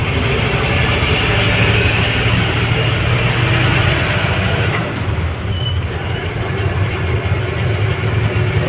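Loud, continuous rumbling roar of a train running close by a bridge at Kovvur, with a brief dip midway, dense broadband noise throughout.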